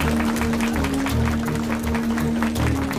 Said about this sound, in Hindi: ये तालियां किस लिए बजा रहे हैं?